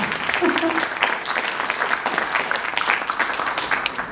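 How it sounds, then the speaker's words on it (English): Audience applause after a live music performance, a steady round of clapping throughout with some voices mixed in beneath it. "Let's give them another warm round of applause."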